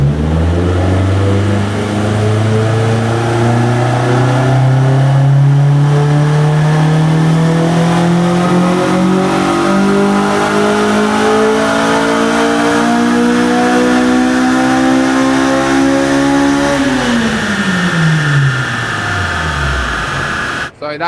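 A Honda Civic Type R EP3 with drop-in cams and an ECU remap revs hard on a dyno, its loud engine note climbing steadily for about seventeen seconds before dropping away as the throttle closes.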